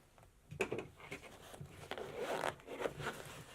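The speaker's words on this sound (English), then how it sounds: "then I zip that up" A zipper runs around a fabric Nintendo Switch carry case in several close, scratchy pulls of varying speed, with brief pauses and faint handling rustle between strokes.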